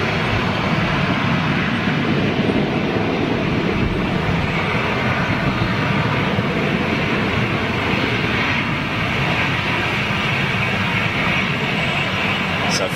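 A big jet airliner roars down the southern runway on takeoff, a steady, loud, broad engine rumble that holds for the whole stretch without fading, heard from a distance outdoors.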